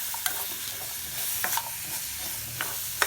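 Green chilies and pickle mix stirred in a hot pan, a soft steady sizzle with scraping spoon strokes at irregular moments, close and fairly quiet, no voices.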